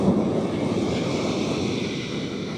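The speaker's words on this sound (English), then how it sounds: "So as you can see, we have heavy rain" Heavy rain pours down in a dense, steady hiss and patter that stays constant and fairly loud, with no talk over it.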